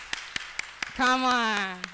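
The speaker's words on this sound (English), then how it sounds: "So give yourselves a hand clap for being part of the conversation." Audience hands clap in a quick, steady rhythm of sharp claps, then a sustained voice rises over the beat at a conference-style event.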